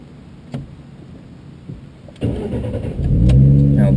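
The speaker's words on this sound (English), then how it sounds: "So go ahead and start the car." Ford Mustang V6 with a manual transmission cranks over and fires up, settling into a loud, steady idle close by after a brief starter whir, with no talking.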